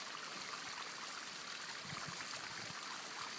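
Steady broadband rush of falling water, continuous and fairly distant, like a waterfall or stream with no voices.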